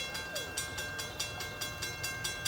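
A southbound CSX freight train on the Toledo subdivision rolls past nearby with a steady rumble and regular clickety-clack of wheels over rail joints, rhythmic beats repeating about every quarter second.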